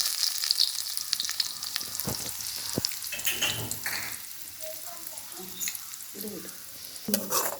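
Onions fry in oil in a pan for a tempering, with a bright sizzle and crackle up close, scattered clinks of stirring and a few watery splashes.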